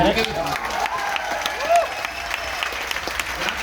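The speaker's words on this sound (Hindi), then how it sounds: "ताली" Audience applause breaks out at a sales meeting, a steady wash of clapping from a crowd filling the whole moment, fairly loud and continuous without pause.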